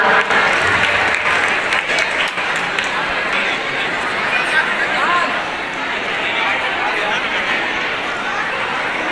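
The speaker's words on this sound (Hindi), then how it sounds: "जोरदार तालियां।" Loud, sustained applause from a large crowd at a school annual function and prize distribution, dense and continuous throughout, with faint chatter mixed in.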